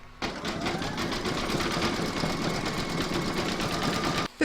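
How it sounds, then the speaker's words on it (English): A home embroidery machine stitches a zigzag around the fabric edge in a hooped koala toy project, with a steady, fast mechanical whirr and needle chatter throughout. It is close and unbroken, with only a brief pause at the end. "You're now going to pop your hoop into your machine and stitch round number 9, and that's going to zigzag around the edge of the fabric."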